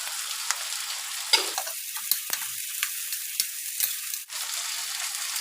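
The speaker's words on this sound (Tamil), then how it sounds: "இந்த ஆனியன் வந்து கொஞ்சம் நல்லா வதங்கட்டும்." Onion sautéing in a pan with turmeric and spices, a steady soft sizzle with occasional clicks and scrapes of stirring, close and continuous without talk.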